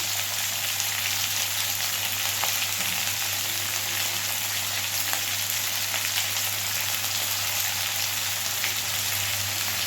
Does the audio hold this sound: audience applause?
no